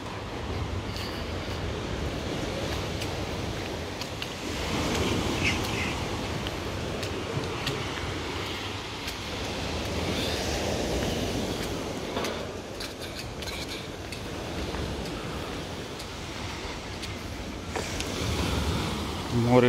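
Stormy Black Sea surf at Lazarevskoye in the early morning, a continuous broad roar of breaking waves that swells and recedes in slow surges, mixed with wind.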